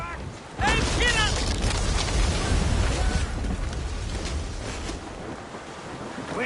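Strong wind at sea in Assassin's Creed Rogue, a steady roaring gust with rushing waves and creaking sailing ship sounds, loud and continuous, with brief shouted voices over it.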